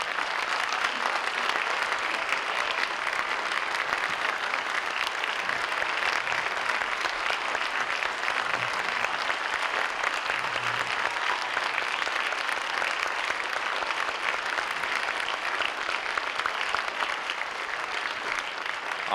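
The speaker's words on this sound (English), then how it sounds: "Back row, give them a round of applause." An audience at a school band concert claps for a row of band students, a steady, dense round of applause lasting nearly twenty seconds with no break.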